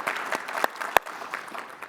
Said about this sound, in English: Give it a round of applause for our Michigan folks there.